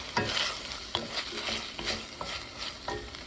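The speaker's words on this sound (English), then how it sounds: "you're going to throw in 1 tablespoon of butter. And get that all nice and melted" A tablespoon of butter melting in a pan after wine has cooked off, the start of a roux, giving a soft sizzle with repeated stirring scrapes and taps, close by, with no talking.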